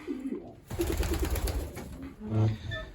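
Pigeons coo close by in a loft as they settle, a few soft low calls with wingy rustling between them.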